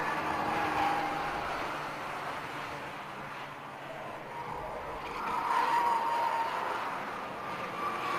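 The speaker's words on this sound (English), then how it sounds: "Now this train of cars coming under the bridge here is just a sight to behold." A line of race cars sweeps under a bridge during the Silverstone 24-hour race, a steady loud engine roar with passes swelling and fading over several seconds.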